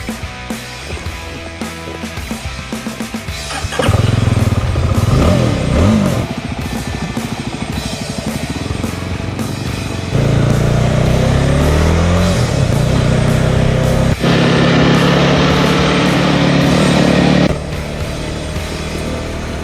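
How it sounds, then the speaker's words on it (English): A BSA Bantam 350 motorcycle engine on the road, loud and close, rising and falling through revs and gear changes with steady throaty drone and wind rush. "Let's get on the bike and have a ride."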